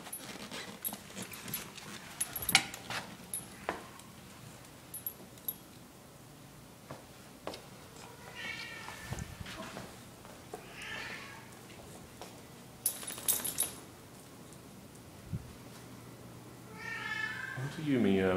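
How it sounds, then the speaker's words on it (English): A pet cat meows a few times indoors, with soft bursts spread through the clip, while a person speaks nearby and a dog shuffles around. "What are you meowing about?"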